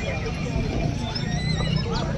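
A horse at a livestock market, with whinny-like tones and shuffling hooves over a busy crowd babble and nearby talk.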